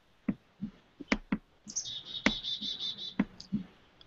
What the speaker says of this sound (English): We can hear your birds waking up